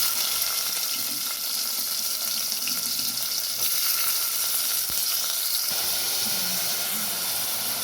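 Chopped onions sizzle steadily in hot oil with whole spices, a dense continuous frying hiss at close range for Muslim-style mutton head gravy, with no voices.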